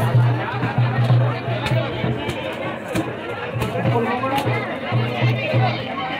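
A large, dense crowd fills a temple fair (yatra) for Sant Sonaji Maharaj in Sonala, Buldhana, with continuous babble of many voices and a low steady hum nearby.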